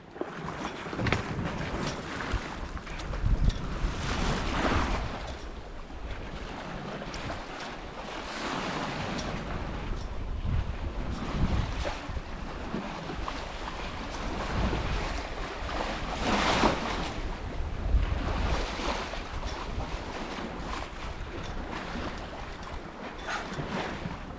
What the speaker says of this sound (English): I felt the wind shift, and the wind has picked up a bit